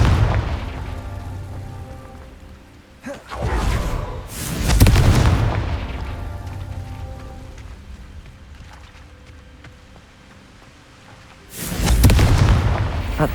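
Spell blasts from the Confringo spell in Hogwarts Legacy: loud, deep booming explosions, a pair of close bursts early on and another heavy blast near the end, with rumbling debris and ambience between them.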